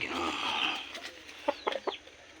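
Backyard chickens being given water cluck in a short burst of several quick, fairly close calls over a steady hiss of background noise.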